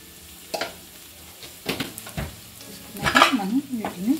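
Ground spices (coriander powder, turmeric and chili powder) being stirred in a frying pan for aloo methi, with a low sizzle broken by several scraping spoon strokes against the pan.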